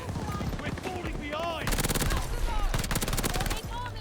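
Rapid, dense bursts of PPSh-41 submachine gun fire in Call of Duty: Vanguard, loud and close, running in long automatic strings over game effects and brief musical tones.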